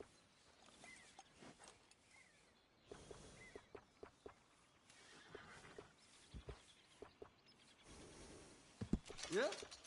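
A horse in the Western video game Red Dead Redemption 2 gives a short whinny near the end, after scattered hoof clops, tack rattles and small movement sounds, all fairly quiet.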